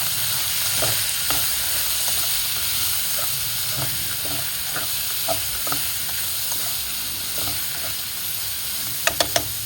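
Onion and garlic frying in oil for Bicol Express, a loud continuous hissing sizzle with scattered scrapes of stirring and a quick burst of clicks near the end, no talk.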